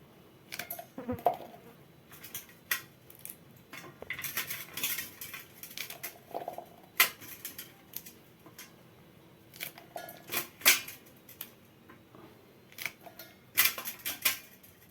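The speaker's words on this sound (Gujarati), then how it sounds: "આ મરચાં આપણે કટકી કરી નાખી દીધા" A knife chopping green chillies on a board, a string of faint, irregular clicks and taps with short pauses, close and quiet with no talking.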